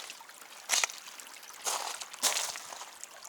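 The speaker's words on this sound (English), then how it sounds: "Let me cross this little creek right here" Water trickling and splashing along a small creek on a forest trail, quiet and steady, with louder bursts of pouring and splashing near 0.7, 1.7 and 2.3 seconds.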